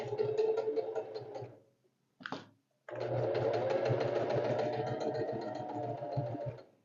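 Sewing machine stitching a fabric sleeve, a close, steady mechanical whir with rapid ticking needle rhythm, running in two longer stretches split by a brief stop and short burst.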